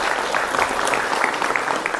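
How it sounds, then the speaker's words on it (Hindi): Studio audience applause welcoming a religious guru on a Hindi TV debate show, steady dense clapping lasting about two seconds at moderate loudness with no talk over it. "जोरदार तालियों से उनका स्वागत करें।"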